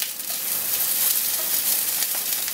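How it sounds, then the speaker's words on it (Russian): Eggplant slices fry in a pan, a dense steady crackling sizzle that holds close and even throughout, with scattered small pops and no voices. "Не всегда равномерно подрумяниваются баклажаны на сковороде"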